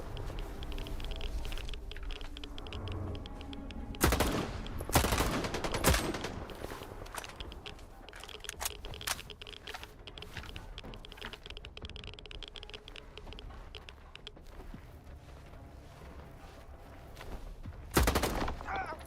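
Gunfire in the video game STALKER, a few loud bursts of close shots separated by long stretches of rapid keyboard clatter and quieter background noise.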